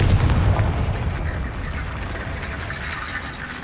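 A Confringo blasting spell in Hogwarts Legacy on PC erupts in a deep, booming explosion at the start, then trails off into a long, noisy rumble that slowly fades.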